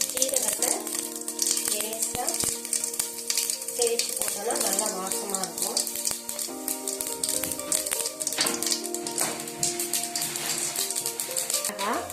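Mustard seeds pop as hot oil sizzles and crackles continuously while tempering for rasam, with occasional utensil clinks and a voice talking over it.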